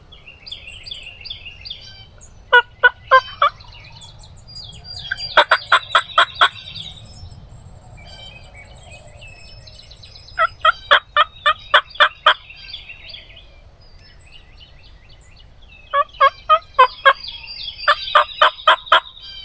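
A wild turkey gobbles repeatedly on a spring morning, several loud rattling bursts at a moderate distance separated by pauses, over quiet woodland background with no talk.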